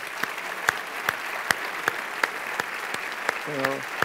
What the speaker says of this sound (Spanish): gracias a todos y un aplauso aquí para Francisco García Parmes